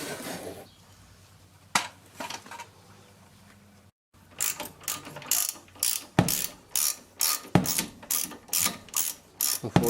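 A ratchet wrench loosens a 14 mm bolt on the front brake hose bracket of a 1999 Toyota Corolla, giving close, loud, regular clicking strokes in a steady rhythm after a few scattered clicks.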